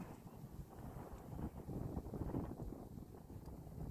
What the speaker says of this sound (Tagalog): Malakas po ang hangin guys